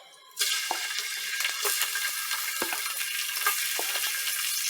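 Shrimp sizzle loudly as they drop into a hot, oiled pan. The frying hiss is steady and close, with a few soft clinks and stirring scrapes and no voices.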